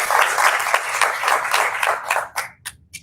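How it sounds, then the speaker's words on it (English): An audience at an event about bringing safe meetings back applauds, a dense burst of many hands clapping that thins out into a few scattered last claps before stopping. "give you a round of applause"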